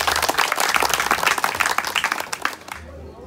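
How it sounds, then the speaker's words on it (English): A crowd at a political campaign event in Nigeria claps and applauds together in a dense burst that tapers off and fades out at the end. "I want you to clap for yourself."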